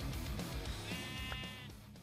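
A Minecraft sheep gives a single wavering bleat, fairly close and clear, over a soft game background.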